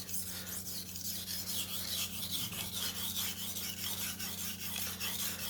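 A knife is sharpened on a sharpening stone with steady, rhythmic rasping strokes, close and moderately loud over a constant low background hum.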